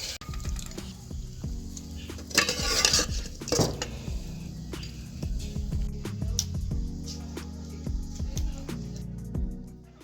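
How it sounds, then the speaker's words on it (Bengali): Fried moong puli pitha are lifted out of the pan and dropped into sweet syrup, with close metal clinks and scrapes of utensils against pots, some wet stirring and faint sizzling, and no talk. "এই নামিয়ে নিচ্ছি, মিষ্টি রসের মধ্যে দিয়ে দিচ্ছি।"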